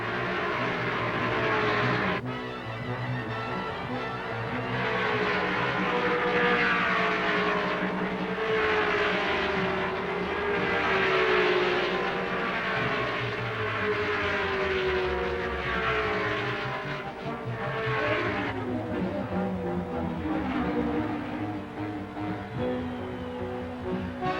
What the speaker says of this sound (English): Clark leads the pack through the 1st turn with A.J. Foyt, Dan Gurney, and Farley Jones in close pursuit.